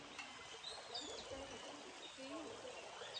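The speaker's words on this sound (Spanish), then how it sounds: "aquí corre el arroyo" A small stream runs over stones in Guayameo, a steady close rush of trickling water with faint bird calls above it.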